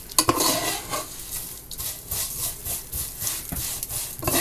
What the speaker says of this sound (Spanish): un diente de ajo, para que se vaya friendo con la sopa